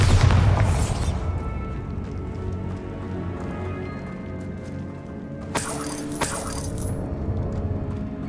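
The Bombarda explosion spell in Hogwarts Legacy: a loud booming blast opens, followed by shattering debris and ringing tinkles, then a second crackling burst of breaking fragments later on, with no talking.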